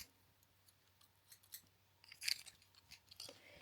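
Quiet snips and rustles of a small pair of scissors being picked up and handled, with a brief sharp metallic clink midway.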